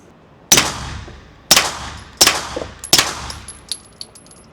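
Four suppressed 9mm shots from a Springfield Armory KUNA fitted with a Silencer Co. Osprey suppressor, sharp cracks spaced under a second apart with ringing metallic tails, outdoors at close range, followed by faint clinks.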